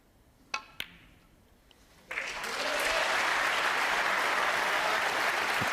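Snooker crowd bursting into sustained applause as Ronnie O'Sullivan nears a 147 maximum break, a couple of sharp clicks first, then loud, dense clapping swelling and holding steady to the end.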